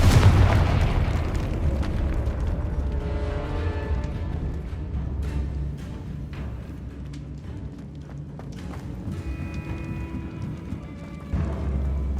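Confringo fire spell explosion in the video game Hogwarts Legacy, a loud booming blast at the start with rumbling low-end that fades into a sustained dark ambient bed, with no talk.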